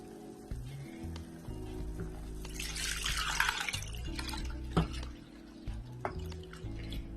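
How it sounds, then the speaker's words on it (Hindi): Boiled milk poured into a roasted dry-fruit nishasta mixture in a pan, giving a soft sizzle and bubbling hiss that swells mid-pour, with light drips and a few clinks, fairly quiet and with no talking. "अब मैं इसमें बॉइल्ड मिल्क डाल रही हूँ।"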